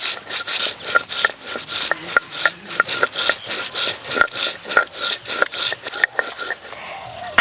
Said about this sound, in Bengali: সব কিছু একসঙ্গেই বেটে নেব।